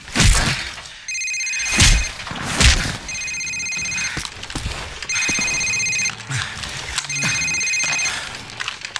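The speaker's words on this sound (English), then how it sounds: "Sir, it's his cell phone." A cell phone rings repeatedly in a Call of Duty Modern Warfare cutscene, four bursts of bright trilling tone with pauses between them over heavy thuds and game ambience.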